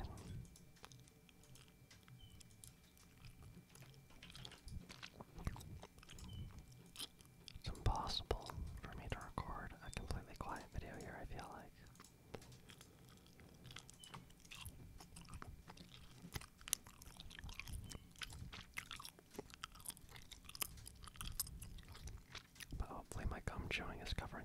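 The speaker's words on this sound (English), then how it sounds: "chewing is covering a lot of it." Gum chewing and hard candy being eaten up close for ASMR, with soft wet mouth clicks and crunches running throughout under a whispering voice, while faint crackles and clicks sit in the background.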